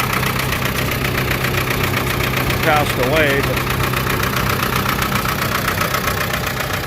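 A Ford 6600 tractor engine idles with a steady, rough rumble throughout while someone talks over it nearby.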